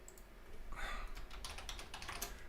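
Keys on a computer keyboard clatter in quick, irregular bursts of light clicks, close but quiet, with no speech.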